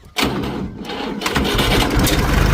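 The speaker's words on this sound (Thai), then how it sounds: "เดี๋ยวฟังอัตราการเร่งกันนะครับ สตารให้ฟังนะครับ" An Iseki TS2810 28 hp three-cylinder diesel tractor cranks and fires up abruptly, then settles into a loud, close, rumbling idle that rises slightly as it revs.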